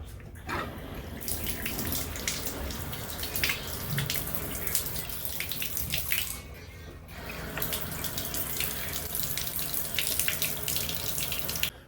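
Steady rush of water pouring from a bathtub faucet into the tub, running continuously at close range with a brief dip midway.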